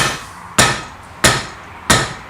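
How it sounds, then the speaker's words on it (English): Metal being bent by hand and struck with a soft hammer in a workshop, for a BM 250 trials motorcycle build: three evenly spaced, solid knocks about two-thirds of a second apart, close and fairly loud, with no talking. "And with a soft hammer."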